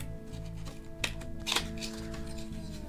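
The cardboard box of a DianSheng Diamond cube puzzle being opened: a couple of brief crisp scrapes and snaps over a steady low hum, close.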